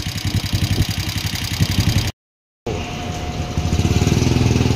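A Suzuki Smash 115 motorcycle fitted with a 57 mm exhaust pipe idling and revving close by, a loud, choppy putter cut by a brief gap of silence before the engine picks up again.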